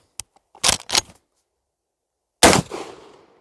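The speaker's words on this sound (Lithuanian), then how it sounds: "Kulkos šūvis žymiai intensyvesnis" A pump-action shotgun fires a single slug at a 20-metre target outdoors: one loud, sharp blast with a long decaying echo, preceded by a click and two brief mechanical clacks of the action being worked.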